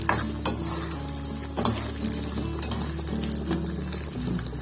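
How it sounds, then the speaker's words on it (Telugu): Urad dal, chana dal and long-cut green chillies frying in a tempering pan, a continuous close sizzle with periodic scraping stirs and clinks, no voices. "కొద్దిగా మినప్పప్పు వేసి, శనగపప్పు, పొడుగా కట్ చేసుకున్న పచ్చిమిరపకాయలు. ఇవి మంచిగా ఫ్రై అవుతున్నాయి."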